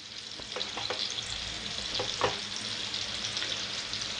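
Pomfret fish coated with curry leaves and ginger-garlic paste fries in a pan, giving a close, steady sizzle with a few scattered pops and light scrapes and no talking.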